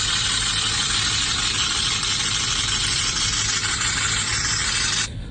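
Single-turbo Dodge Hellcat engine running on a stock motor, a loud, close, steady idle drone with broad hissing noise, holding level before dropping slightly at the very end.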